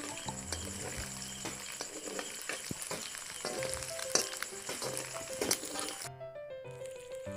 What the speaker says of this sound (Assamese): এয়া চাওক, ভাজি আছোঁ। মাংসটো হৈছে ভাজা